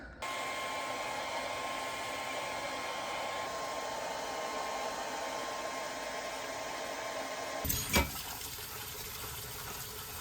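Hair dryer drying screen-printed tote bags in a small bedroom print shop, a steady close whooshing blow that runs continuously, then a brief bump and change in tone near the end.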